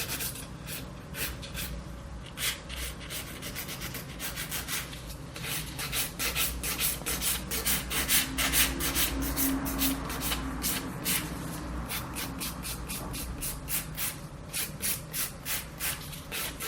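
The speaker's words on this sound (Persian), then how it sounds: "دورگیری و سوهان کشی برقی" An electric nail file shapes and files an acrylic nail into a pointed stiletto form, giving a soft, close rubbing and grinding hiss broken by a quick series of short, regular scraping strokes.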